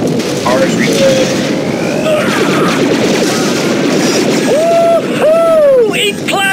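Plasma blasters fire in rapid, dense volleys during a battle against droids in the Star Wars Republic Commando video game, loud and chaotic with whooshing electronic shots layered over the barrage.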